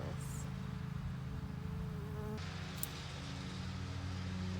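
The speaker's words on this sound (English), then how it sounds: "Bees love this." Bees buzzing around freshly opening daylilies in a Northeast Ohio zone 6 garden, a steady close insect drone that continues without pause, with a brief higher-pitched insect whine passing near the end.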